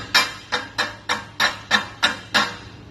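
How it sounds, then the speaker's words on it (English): Welding slag is chipped off a fresh bead with a hammer, eight evenly spaced sharp metallic strikes about a third of a second apart, close and clear with no talking. "chip that up, chip that slag off"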